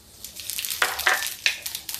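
Cumin seeds tossed into gram flour roasting in a hot pan on high heat, giving a soft crackling sizzle with a few sharper spits and pops over steady frying hiss.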